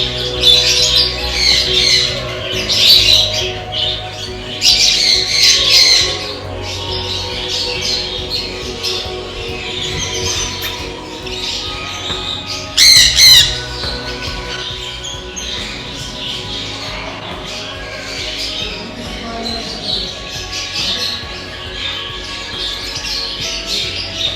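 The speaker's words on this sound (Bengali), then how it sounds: "অস্ট্রেলিয়ান বদ্রি পাখি দেখুন" A flock of Australian budgerigars in a zoo aviary at Murshidabad keeps up near, busy squawking and chattering, with louder bursts of shrill calls rising and falling over a steady background chatter.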